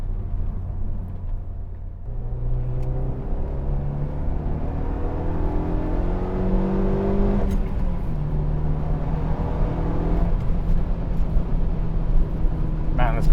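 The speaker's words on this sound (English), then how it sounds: "Man, this car picks up speed quickly." Renault Megane RS sports car accelerating on a back road, heard from inside as the engine note climbs steadily through the gears with a shift partway, loud and continuous.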